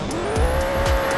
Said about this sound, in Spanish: ¿Quién me acaba de empujar y quién me acaba de romper el carro?